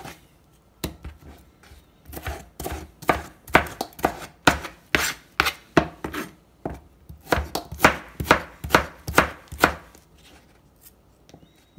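A knife chops tomato into small pieces on a board for beef soup, crisp rhythmic cuts coming in quick runs with short pauses between bursts, close and clear.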